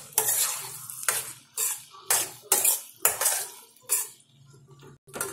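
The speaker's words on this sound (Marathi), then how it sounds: "आता आपण परत एकदा मिक्स करून घ्यायचं" A spoon stirring cluster bean (gawar phali) sabzi in a pan, five or six scraping strokes in an uneven rhythm with faint sizzling between them, close and alone.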